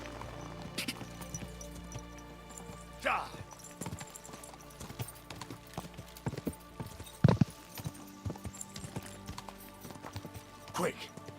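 Hoofbeats from a galloping horse in the video game Kingdom Come: Deliverance 2 keep up a steady, fairly quiet clatter, with a few sharper thumps. Someone speaks over the galloping.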